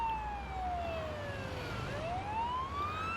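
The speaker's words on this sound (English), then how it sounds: "We'll put a siren on, because it does help me clear the road." Ambulance siren from the Ambulance Life: A Paramedic Simulator video game, a steady wailing tone sweeping slowly down then back up, loud and continuous over a low engine rumble.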